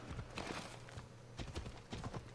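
A horse's hooves trot at a steady rhythm on the ground in Assassin's Creed Odyssey, a constant clip-clop heard at moderate volume.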